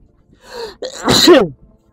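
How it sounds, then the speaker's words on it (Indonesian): One loud, close human sneeze, a short sharp inhale followed by a forceful burst, with silence on either side. "Pokoknya setiap lewat Pasteur pasti bersin."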